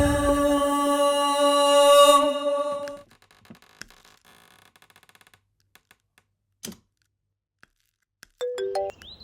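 A phone ringtone plays a bright melodic chime for a few seconds, then stops; scattered clicks follow and a short tone sounds near the end.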